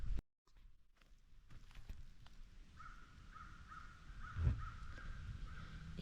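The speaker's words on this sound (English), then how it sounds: "You hear those crows are like going crazy." Crows caw repeatedly at a distance, harsh calls overlapping over a faint outdoor rustle, with a soft thud near the middle.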